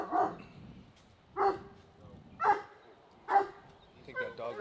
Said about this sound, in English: I think that dog wants some biscuits.